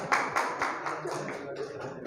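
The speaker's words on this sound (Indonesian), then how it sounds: "Oke, beri tepuk tangan" A classroom gives a round of applause after a recited rhyme, a fairly faint, brief scatter of hand claps that fades quickly into a murmuring room.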